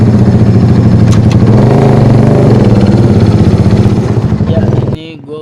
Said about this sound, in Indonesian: Motornya sih udah dimodifikasi.